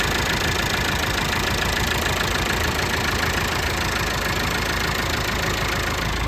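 A 2002 Massey Ferguson 385 tractor with a Perkins diesel engine idles steadily and loud close by, its knocking chug continuous and unbroken throughout, with no talking.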